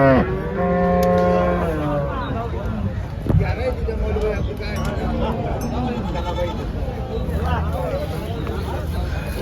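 Cows moo repeatedly at a busy cattle market in Chalisgaon, India, with HF, Jersey and native Gavran cows, some bleating nearby and people talking throughout.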